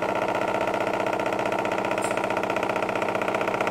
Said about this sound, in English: Now we're going to run the motor in parallel.